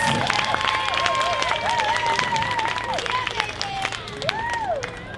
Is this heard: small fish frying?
no